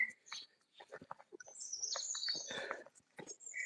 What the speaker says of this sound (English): Love listening to bird song in the morning